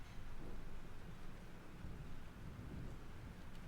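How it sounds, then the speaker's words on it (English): A thunderstorm with rain in the video game Life is Strange rumbles steadily, with a dense low roar of thunder and heavy rain that stays even and fairly loud throughout, with no voices. "This storm is real."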